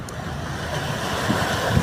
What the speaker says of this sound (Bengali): অনেক বড় বড় ঢেউ, অনেক বড় বড় লঞ্চ সামনে।